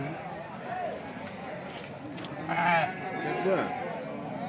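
Sheep bleat repeatedly at a busy Tuesday livestock market in Kadiri, several calls rising clearly over a steady crowd murmur while people talk nearby.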